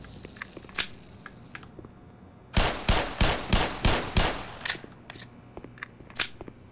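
Gunfire in Black Mesa: Xen: a few scattered sharp shots, then a loud rapid burst of about seven evenly spaced cracks, followed by a handful of fainter trailing pops.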